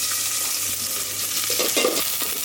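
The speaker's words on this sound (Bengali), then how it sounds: "ডাল বাগার দিয়ে শেষ করি" Hot oil with chopped garlic tempering dal, a continuous bright hiss of sizzling with a few faint stirring sounds, near and steady, no talking.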